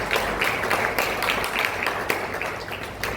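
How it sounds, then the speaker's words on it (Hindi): A church congregation applauds at a novena service, a steady wash of dense clapping that holds evenly throughout without any voices over it. "तालियां बजाकर सबों को धन्यवाद दें।"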